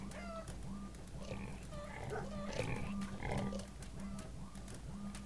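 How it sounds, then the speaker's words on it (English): Pigs on a farm in a video game oink and grunt repeatedly over a steady low background hum, a cluster of calls building in the middle before easing off. "Just quickly check on the pigs."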